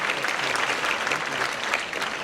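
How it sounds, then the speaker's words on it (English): Conference audience applauding panelists at a financial services forum, a continuous wash of clapping at an even level that lasts the whole stretch, with no voices over it. "Give them a round of applause."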